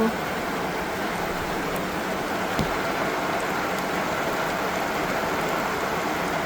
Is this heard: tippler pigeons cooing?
no